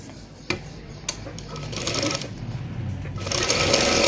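A sewing machine stitches salwar fabric, starting with a couple of sharp clicks and then building into a rapid, rattling run of stitches that grows louder and faster toward the end.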